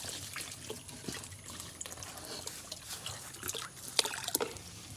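Water poured over pigs being bathed in a farmyard pen, a soft irregular splashing and trickling at close range, with a few sharper splashes near the end and no talk.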